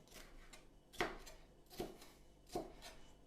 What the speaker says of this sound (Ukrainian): а потім я нарізаю ось такими невеличкими кубиками.